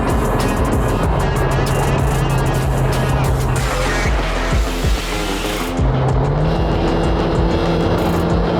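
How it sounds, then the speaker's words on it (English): Mercedes SLS Black Series car driving by in traffic, a loud engine rumble with rising and falling revs and a gear-shift dip, heard close from inside another vehicle. "Now that's a car we need. SLS Black Series."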